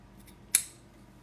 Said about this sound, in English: Cut, scissors, cut. That's what I need.